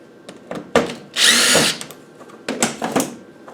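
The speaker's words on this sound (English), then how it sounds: "Let's take the last bolt out." Power tool backing out the last bolt on a damaged Td5 gearbox pump, with a loud half-second burst of drilling among knocks and clanks of metal parts, close up.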